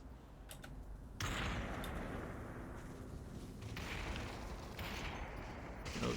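Gunfire crackles in Population: One during a competitive battle-royale match, with rapid distant shots and bursts over a steady background roar, then louder volleys pressing closer in the second half.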